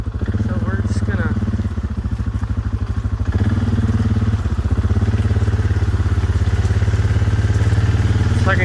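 A Suzuki KingQuad 500 four-wheeler chugs through mud, its engine a steady, close, throbbing rumble that labors under load, with occasional clattering thumps.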